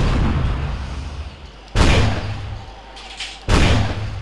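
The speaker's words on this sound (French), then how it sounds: "Cette arme est capable de tirer des grenades" Grenade-launching weapon in an Unreal Development Kit first-person shooter firing two heavy booming shots a couple of seconds apart, each a loud broadband blast over a low rumbling background, with a brief whoosh between them.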